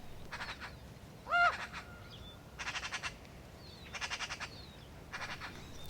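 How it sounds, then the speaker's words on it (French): Common ravens gather at dawn, calling in repeated bursts of deep, rapid croaks spaced a second or so apart, with one sharper call standing out amid a quiet outdoor backdrop. "Au lever du jour, les grands corbeaux arrivent."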